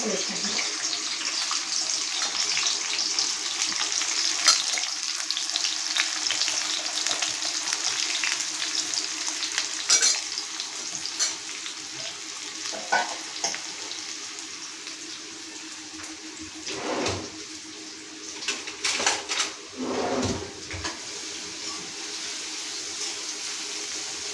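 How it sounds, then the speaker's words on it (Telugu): Turmeric, salt, ginger-garlic paste and masala fry in hot oil for a chicken curry, giving a steady, close sizzle broken by occasional stirring clatter and a few brief voices. "పసుపు ఉప్పు అల్లమెల్లుల్లి పేస్ట్ మసాలా ఆయిల్ వేసుకుంటున్నాము"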